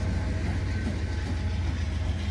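Freight train led by a Norfolk Southern locomotive rumbling past, a steady low roar with faint wheel noise, constant throughout and moderately distant.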